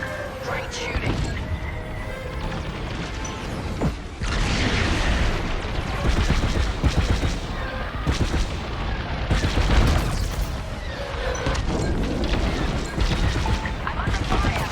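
Blaster fire in a Star Wars Squadrons space dogfight: dense, rapid volleys of laser shots and booming blasts pound almost without pause, with voices mixed into the din.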